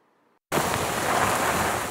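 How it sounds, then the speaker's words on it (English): Heavy rain pouring down during a severe storm in Maryland, a dense, loud hiss that starts abruptly after a brief near-silence and then holds steady. "Heavy rain."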